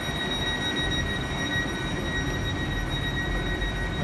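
A train sits at a Plymouth station platform, giving off a steady, loud rumble with high electrical whines throughout and no voices.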